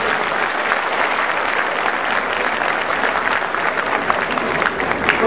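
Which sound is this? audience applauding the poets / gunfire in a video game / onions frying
audience applauding the poets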